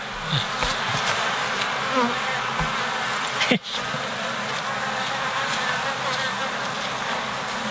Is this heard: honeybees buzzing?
yes